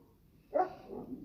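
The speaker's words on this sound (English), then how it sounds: "I apologize for my dog barking in the background." A single faint dog bark rises out of a quiet indoor background, followed by a softer trailing yelp or whimper.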